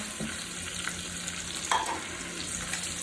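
Charred onions sizzle gently in a pan while being stirred, a low steady frying hiss with a few faint scrapes.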